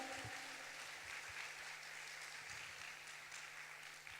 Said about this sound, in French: Alléluia, nous allons encore applaudir le Seigneur.